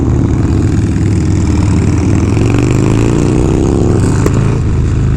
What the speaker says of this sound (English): want to be on something that is obnoxiously and unnecessarily loud and fast, then I choose this bike